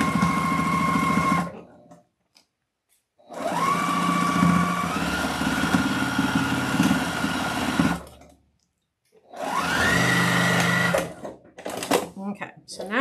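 A sewing machine stitches fabric legs into a witch wreath, whirring in two long steady runs with a short burst near the end, separated by brief silences.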